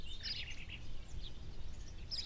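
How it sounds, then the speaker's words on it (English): Video game birds chirp in short, bright bursts over a steady bed of ambient noise, moderately loud and with no talk. "we heard birds, so that was cool"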